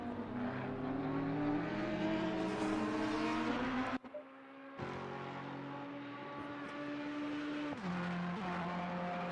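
GT3 race cars, including a Ferrari, roar past at Monza in a sim racing series, with a dense, loud engine drone and shifting pitch, a sudden brief drop-out, then sustained high-revving engine tones.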